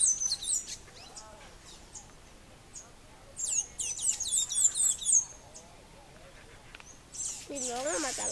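Birds chirp and tweet in short bursts at a moderate distance, with high trilling calls coming and going over a quiet background.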